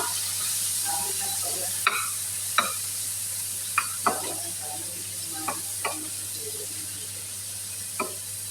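Bulinaw fish cooking in a pan: a soft, steady sizzle runs throughout, broken by several sharp clacks and scrapes of a utensil stirring, heard fairly close and without talking.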